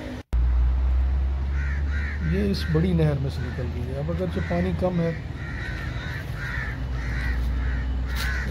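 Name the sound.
birds cawing near a canal in jungle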